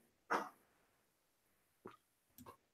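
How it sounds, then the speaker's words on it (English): A dog gives three short, faint barks, one sharper bark followed after a pause by two softer ones, against a quiet background. "Shut up, dog."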